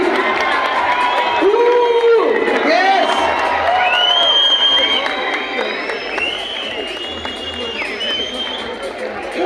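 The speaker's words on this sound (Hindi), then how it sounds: "जोरदार ताली हुटिङ।" A conference hall audience at an anniversary event claps, cheers and whoops loudly, with scattered shouts and voices rising over a sustained crowd roar.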